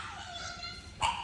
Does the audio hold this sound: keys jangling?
no